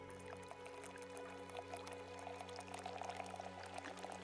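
Liquid poured steadily in a video game until it overflows, a soft continuous trickle and splash over a low droning background hum, faint and without talk.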